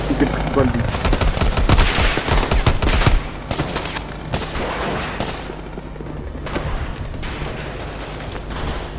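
Rapid machine-gun bursts and gunshots from a Call of Duty campaign battle, loud and dense at first, then thinning to scattered shots, with voices speaking over the combat.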